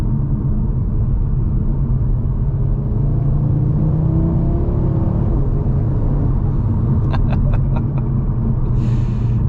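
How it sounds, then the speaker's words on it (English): A 2024 Audi RS 3's turbocharged five-cylinder engine roars steadily under load while accelerating, a deep sustained rumble climbing gradually in pitch, close and loud, with a few brief clicks near the end. "the sound from that 5-cylinder engine is unlike anything else out there"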